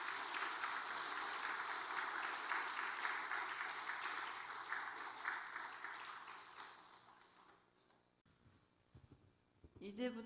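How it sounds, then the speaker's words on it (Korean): A church congregation applauds during a Sunday service, sustained clapping that gradually fades out, followed by quieter room sounds and a few scattered noises. "앞으로 나올 때 좀 여러분 박수 좀 해주시기 바랍니다"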